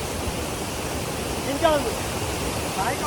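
The Hukratte waterfall gives a steady, broad rush of falling water that stays even throughout, with faint brief tonal sounds over it.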